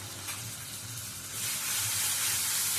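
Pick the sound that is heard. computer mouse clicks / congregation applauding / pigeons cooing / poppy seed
poppy seed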